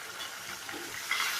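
A paste of onion, garlic and ginger fries with cumin in a pan, giving a steady, soft sizzling hiss with faint crackles and no voices.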